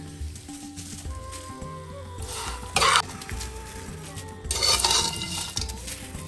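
Spicy Maharashtrian chiwda is tossed in a pan, with two bursts of dry rustling and scraping from the stirring amid light clinks of the spoon on metal.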